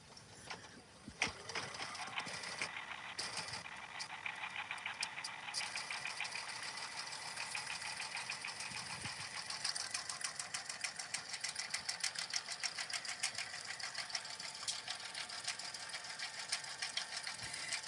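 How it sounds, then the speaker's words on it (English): An embroidery machine stitching flower petals onto Diamond Dust vinyl by Sadie Designs runs at a rapid, steady mechanical rhythm after a brief start-up, close and continuous throughout, with no talk. "we've got a few minutes where it's going to stitch out the petals for our flowers before it does the center in"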